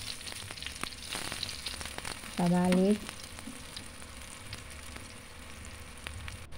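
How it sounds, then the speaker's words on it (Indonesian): Banana filling for chocolate-cheese banana bolen frying in hot oil, a steady close sizzle throughout with a brief louder tonal clatter in the middle. "Selanjutnya ini kita goreng, pisangnya kita goreng."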